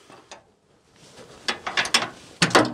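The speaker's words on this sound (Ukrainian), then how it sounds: "Такі защолки тут стоять" Metal latches on a firewood trailer clack and ratchet shut close by, a faint click, a pause, then a rapid cluster of sharp metallic clicks and two louder snapping clunks near the end.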